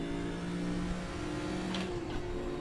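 A race car engine in the RaceRoom racing game holds a steady, continuous drone with sustained harmonic tones, close and loud with no talk over it.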